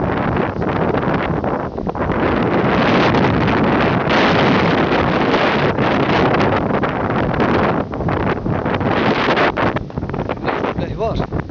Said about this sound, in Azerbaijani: Külək var, küləkli də var. Ancaq şimal küləyidir.